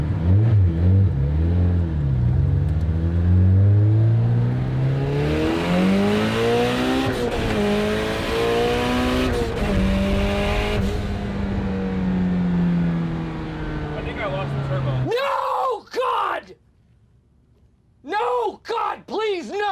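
A UGR twin-turbo Ford GT accelerating hard, its loud roaring engine climbing in pitch through several rising sweeps between gear shifts, then cutting off as excited voices take over at the end.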